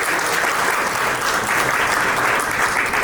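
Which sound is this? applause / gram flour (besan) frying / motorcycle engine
applause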